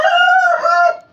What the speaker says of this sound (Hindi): ये भी वे क्या मुर्गे लाए, चेक कर रहे हैं हम, और शोर मचाया हुआ सारे